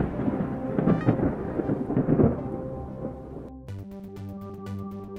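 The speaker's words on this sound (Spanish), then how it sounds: "el trueno es el sonido causado por un rayo" Deep thunder rumbles and rolls loudly for a few seconds amid rain, then gives way to a tonal musical passage.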